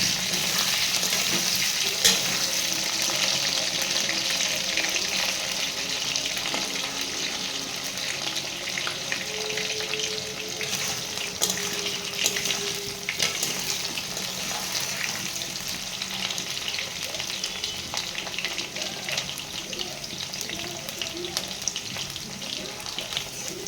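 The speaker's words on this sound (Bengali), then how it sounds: "আলুটা ভাজতে দিয়েছি ঢেকে, তাহলে একটু সিদ্ধ হবে।" Steady sizzling of potatoes frying in a covered pan, muffled and continuous, with occasional soft scraping and clinks.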